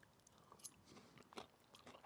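Someone chews a mouthful of classic Lebanese tabbouleh salad, making soft, close crunching and chewing sounds in an irregular rhythm for a couple of seconds. A sharper click comes at the very end, and nobody speaks.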